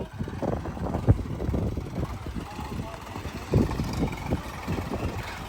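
Three tractors chained up to pull a stuck truck trailer, their engines giving a low, rumbling drone with a couple of louder surges, while people talk over it.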